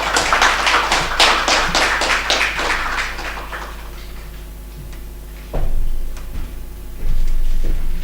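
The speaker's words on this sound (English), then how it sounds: "Let's invite him on the stage with a round of applause." Audience applause welcoming a keynote speaker onto the stage at an automotive manufacturing summit, dense clapping for about four seconds that thins and fades, followed by a few thumps and handling noises.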